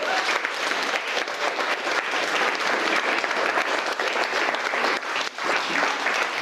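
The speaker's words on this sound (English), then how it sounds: "let's give every individual that has spoken today a big round of applause" A large audience applauds steadily for speakers at the end of a series of speeches, a dense, continuous wash of clapping that stays loud and even throughout without pause.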